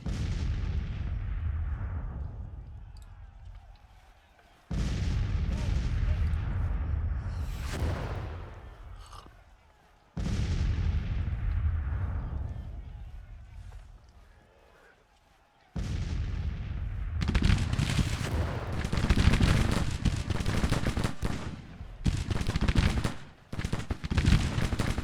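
Artillery fire in the Civil War strategy game Grand Tactician: The Civil War, loud booming salvos in repeated bursts with rumbling decays between them, then denser overlapping cannon fire toward the end.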